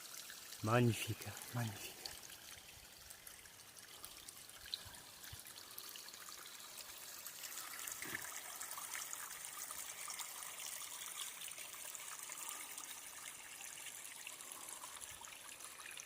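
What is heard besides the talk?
water flowing in a forest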